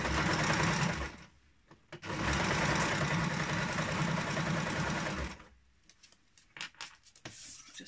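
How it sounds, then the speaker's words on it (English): A sewing machine stitches fabric for a kick scooter bag, running in two long steady loud bursts with a short pause between, then stopping, followed by quieter handling noises up close. "And start sewing."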